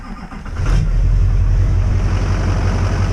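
A bus engine started with a jump box catches and settles into a loud, steady low rumble close by, with no talk over it.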